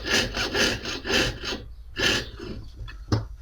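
A Vallorbe 2/0 jeweler's saw blade cuts with rapid, rough back-and-forth strokes in a jewelry workshop, close and fairly loud, pausing briefly midway before a few more strokes.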